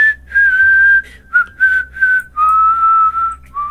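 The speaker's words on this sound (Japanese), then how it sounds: "久々の笛だ。 縦笛スキンだ" A recorder-style flute skin plays a short run of sustained whistly notes in the Among Us video game, clear and close, with brief gaps between phrases and no talking.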